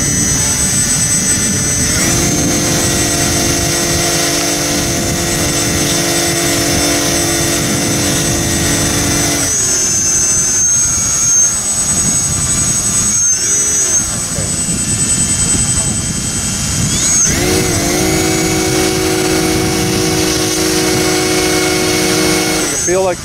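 An RC tailsitter aircraft, the Mk.2, whines loudly and steadily on its first test flight, its motor pitch rising and dipping as the throttle changes, close to the listener.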